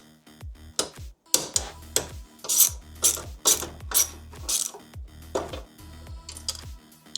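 Screws being worked loose on a $60 espresso machine during a full rebuild, giving a string of loud ratcheting clicks and sharp metallic creaks in bursts, close by with no talking.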